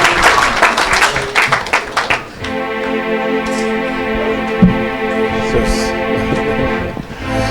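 Audience at a church gathering breaking into applause, a loud dense burst of clapping for about two seconds that gives way to a sustained organ-like tone with softer clapping and crowd noise underneath.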